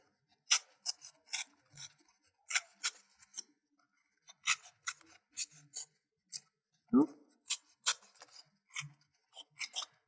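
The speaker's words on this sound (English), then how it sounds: "And then carefully cut it with a craft knife or a pair of scissors." Scissors snip through a fabric-covered cardboard toilet roll in a quick series of close, crisp cuts, with a brief voice murmur partway through.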